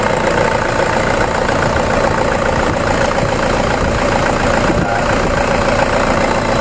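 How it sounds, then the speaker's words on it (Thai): A 2006 Toyota Hilux Vigo 2.5 G diesel pickup with manual gearbox idles steadily, a dense, even engine drone that holds close and constant throughout with no speech over it. "เสียงเครื่องนิ่มๆเลยครับ"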